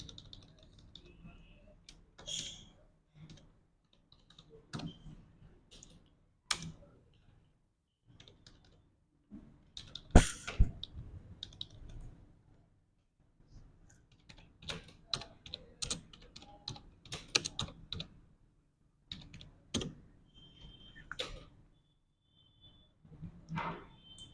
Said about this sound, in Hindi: तो हम यहाँ पे टाइप कर लेते हैं।